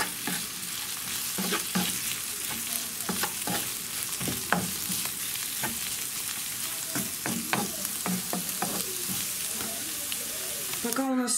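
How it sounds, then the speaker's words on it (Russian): Onion and carrot sizzle steadily in a hot pan, with scraping and stirring clicks from a utensil throughout; no talking. "И готовим, жарим до готовности моркови."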